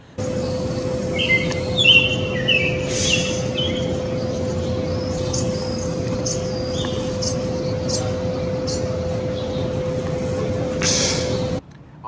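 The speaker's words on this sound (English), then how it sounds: "they are American robins, but they sound like they're singing" Several short chirpy bird calls from American robins, faint and a little distant, scattered over a steady low mechanical hum, heard alone without any voice.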